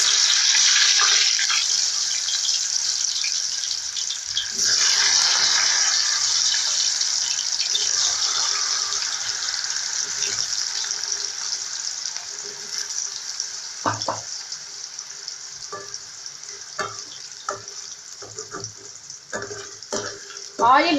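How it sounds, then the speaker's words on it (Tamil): Raw banana slices go into hot oil and fry with a steady bubbling hiss that is loud at first, then slowly settles. Sharp clinks and scrapes of a utensil come in near the end. "இப்போ நம்ம கட் பண்ணி வச்சிருக்க வாழைக்காயெல்லாம் போட்டு ஃப்ரை பண்ணிக்கலாம்"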